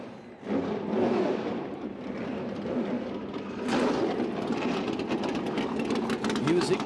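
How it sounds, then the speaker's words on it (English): Smart Modified Tour race car engines at the King of the Modifieds race firing up together, a dense mass of rough idling and revving that swells partway through, with crowd and announcer voices mixed in. "Drivers, start your engines!"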